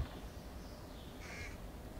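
A crow caws faintly as startled birds take flight in the stealth game Thief, two or three distant, hoarse calls drifting over a soft ambient hiss.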